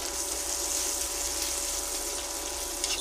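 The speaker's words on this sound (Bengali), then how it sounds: "সামান্য জল দিয়ে একটু কষাবো।" Water is poured into a pan of fish curry cooked with mustard paste, turmeric and ginger, making a steady close rushing splash with light sizzling for a few seconds.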